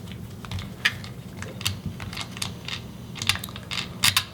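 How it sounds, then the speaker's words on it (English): Unscrewing the front shroud screw on a Tippmann Bravo One Elite paintball marker produces faint, irregular tool clicks and small scraping ticks, close by and quiet, over a low hum. "So we've got one screw in the bottom front half that we're going to twist out and remove"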